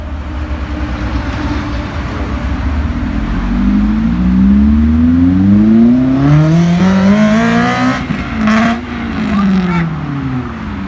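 A Honda Civic FN2 Type R with a 76mm exhaust, branch manifold and induction kit pulls hard through the gears. The engine note climbs loud and close again and again, with short breaks at each shift.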